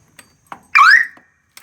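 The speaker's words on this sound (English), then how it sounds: "The mower alarm is now bolted on." A mower-mounted alarm on a Troy-Bilt riding mower, freshly wired, gives one short test blast: a loud, rising electronic wail lasting about a quarter second, with faint clicks and taps before and after.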